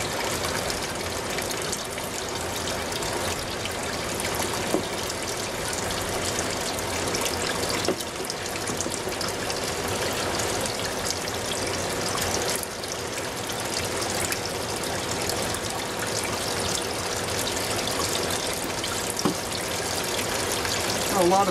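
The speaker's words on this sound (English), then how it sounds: "pump is running and the float valve is letting water come out into the reservoir" In a hydroponic Dutch bucket setup, a running pump and a float valve let make-up water pour into the reservoir, a steady close splashing trickle over a faint hum that continues without a break.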